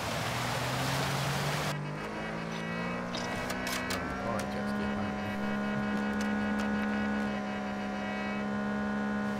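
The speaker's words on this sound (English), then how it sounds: "We're on a jet ski." A jet ski engine in Call of Duty DMZ hums steadily and loudly out on the water, its pitch rising and then holding even, with splashy noise at the start and brief clicks later, no voices.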